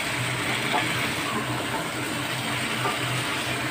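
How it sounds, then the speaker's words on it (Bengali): Spices and ginger-onion-garlic-chilli masala sautéing with raw jackfruit in a pan make a steady broad hiss and low rumble throughout, with faint scraping; no voices. "হ্যাঁ এঁচোড় দিয়ে মশলাটা কষে নিচ্ছি।"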